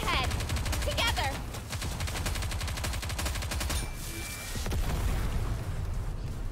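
Rapid automatic gunfire from the video game Nikke: Goddess of Victory, dense rattling bursts running nearly the whole time with scattered pops and game effects, loud and close, with a voice speaking over part of it.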